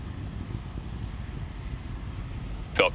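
Falcon 9 rocket engines roar steadily during ascent through max Q, a low, broad rumble that stays even and continuous with a brief louder crackle near the end.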